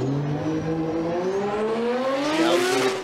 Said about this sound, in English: number 771, Hiroya Minowa in the Cusco Racing GR Yaris